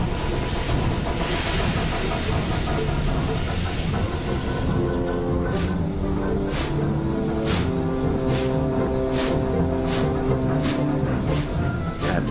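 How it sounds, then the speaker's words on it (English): Steam locomotives on a railway work together to push and pull a stalled express train uphill, rhythmic chuffing puffs emerging over a dense, steady rumble of rolling train noise. "Soon, Edward puffed to the rescue"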